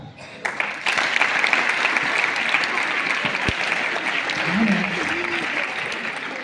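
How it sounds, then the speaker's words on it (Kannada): An audience applauds during a speech, a steady, dense clapping that swells quickly and holds for several seconds, moderately distant, with faint voices beneath it. "ಆದರೆ ನೀವು ಹೀಗೆ ಚಪ್ಪಾಳೆ ತಟ್ಟತ್ತೀರಿ ಅಂದ್ರೆ ಭಾಳ ಲೇಟ್ ಆಗ್ತದೆ"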